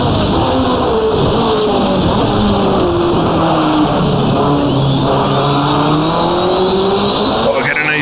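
A 1985 CART Indy race car accelerates hard out of a chicane in rFactor2, its loud turbo engine climbing in pitch through the gears with a steady high whine, heard up close, and a brief shift blip near the end.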